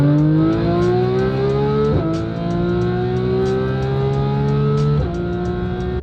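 Supercharged Porsche 911 GT3 RS engine revving hard and continuously at high RPM, its pitch climbing steadily then dropping sharply around two and five seconds as gears shift, loud and close with no talking.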